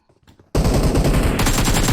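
Loud automatic rifle fire in a PUBG-style shooter game bursts in after half a second of quiet, faint clatter, then continues as a rapid, close, sustained volley to the end.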